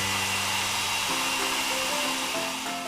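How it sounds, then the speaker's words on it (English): A hair dryer blows with a steady, close, loud whooshing hum and motor whine that holds alone from start to finish. "Hair dryer."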